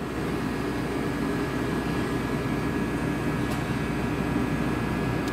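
A Walter Helitronic Mini Power CNC tool and cutter grinder running on 440-volt three-phase power gives a steady, continuous machine hum and whir, even and unbroken throughout, with no talk over it.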